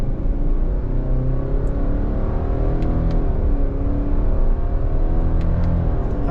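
A 2021 Subaru Crosstrek Sport engine revs through simulated manual gear steps, a loud, buzzy, continuous drone heard from inside the cabin, with pitch climbing and dropping as the shifts occur.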